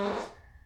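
A loud, close fart rips out inside a motorhome in the morning, a single rasping burst that tails off quickly into quiet.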